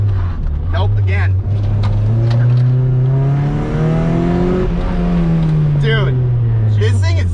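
An engine-swapped car revving hard, its engine note climbing and falling in a strong, close whine over several seconds, with people talking over it.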